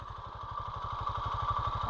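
A motorcycle engine runs while riding on a highway, giving a steady, evenly pulsing low throb with a faint whine above it, fairly close and continuous, with no voices.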